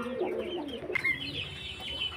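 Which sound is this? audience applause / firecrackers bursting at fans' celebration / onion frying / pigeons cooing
pigeons cooing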